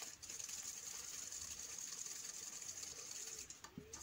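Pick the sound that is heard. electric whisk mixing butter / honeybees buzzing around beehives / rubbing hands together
electric whisk mixing butter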